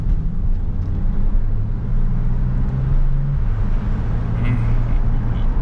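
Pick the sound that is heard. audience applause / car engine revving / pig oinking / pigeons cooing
car engine revving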